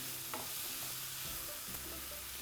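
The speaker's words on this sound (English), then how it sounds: "So we're sauteing those for a few more minutes there." Choco guacamole and spicy super beans sauteing in a pan, a soft continuous sizzle with a couple of scraping stirs, close and alone without talk.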